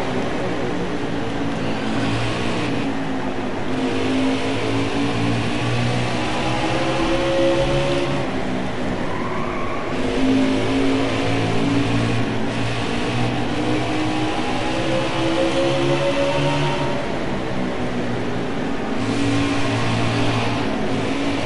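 Race car engine in a NASCAR racing video game, Matt Kenseth's car, droning steadily at a sustained, even pitch with slight rises and falls throughout, loud and continuous with no voices over it.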